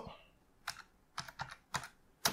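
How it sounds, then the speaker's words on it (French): A password is typed on a computer keyboard: a short run of sparse, quiet keystrokes clicking at an uneven pace in an otherwise still room. "Je tape le mot de passe."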